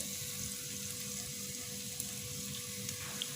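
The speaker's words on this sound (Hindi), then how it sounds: "और इनको अब मैं गोल्डन ब्राउन फ्राई कर दूँगी" Two large sliced onions frying in a quarter cup of oil in a pan: a steady, faint, continuous sizzle with an even hiss throughout and no pauses.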